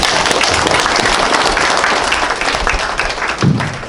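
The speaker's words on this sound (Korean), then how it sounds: "다시 한번 큰 박수를 보내주시기 바랍니다" An audience at a Korean community ceremony applauds, a dense, steady crowd of clapping hands held at an even level throughout.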